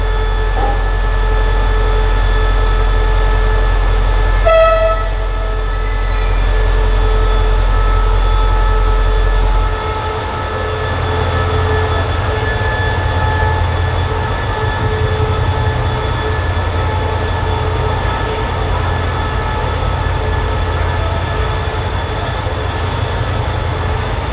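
Thai passenger train no. 135 pulling out of Don Mueang station, a steady loud rumble of wheels and carriages with a brief metallic squeal, continuing alone without speech.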